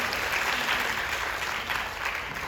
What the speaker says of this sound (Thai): ปรบมือให้ หน่อย